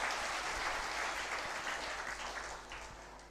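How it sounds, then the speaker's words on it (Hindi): A crowd at a Shri Pandhokhar Sarkar religious court gathering claps in a dense, steady round of applause that slowly fades toward the end. "समझ में आता है तो ताली बजा देना चाहिए,"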